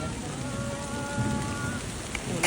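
Heavy rain pours down steadily with wind during a rehearsal of a royal barge procession on a river, a dense continuous hiss with no break, loud and close throughout.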